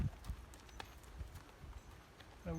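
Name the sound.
horse hooves clip-clopping in riding arena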